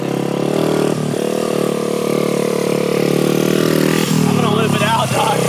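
A small Honda 50cc motorcycle engine runs loud and close with a steady buzzing drone, slight dips in pitch, while a voice talks over it.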